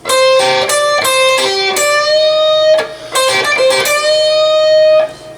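Electric guitar slowly playing a riff with alternate picking and a half-step bend, clean, close notes with long sustains in two phrases.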